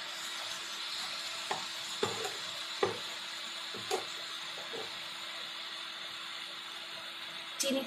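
Sugar stirred into a hot mixture in a cooking pot, heard as soft intermittent scrapes and taps of the utensil over a steady sizzling hiss, quiet and close, without any speech.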